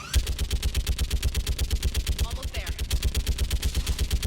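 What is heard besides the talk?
turret gunfire in Mass Effect 3 video game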